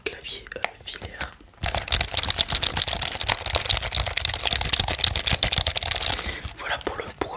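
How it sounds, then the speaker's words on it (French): After a quieter opening with whispering, close rapid typing on a wired computer keyboard starts and keeps up a steady, crisp clatter of keys to the end. "Bien sûr, c'est un clavier filaire."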